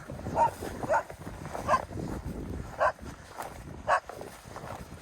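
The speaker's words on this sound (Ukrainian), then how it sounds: "Песики." Dogs bark in about five sharp, separate barks at a moderate distance beside a river on a fishing outing, with a steady outdoor background between barks.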